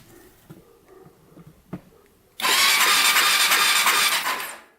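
A Honda 400ex ATV fitted with a 440cc big bore kit starts up after a few quiet clicks and knocks, then roars into a loud, harsh, rough running burst for about two seconds before cutting off.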